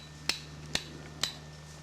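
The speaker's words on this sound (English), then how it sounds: "You hammer the stakes into the ground" Three sharp, evenly spaced metallic strikes ring out close by as the stakes of a WW2-era tripwire mine are hammered into the ground at a living-history weekend, with no talking.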